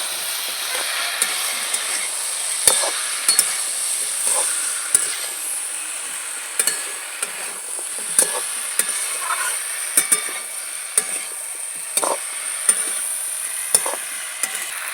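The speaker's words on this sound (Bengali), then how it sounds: "বেটে রাখা আদা মশলাটা ভালো করে কষিয়ে নেব সবজির সাথে" Ground ginger spice paste being fried and stirred with drumstick vegetables in a pan, a steady close sizzle with regular scraping stirs and clacks of a spoon.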